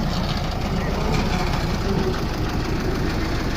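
A Holland tractor's engine runs at idle, a dense, steady low rumble with a knocking throb, close and loud throughout.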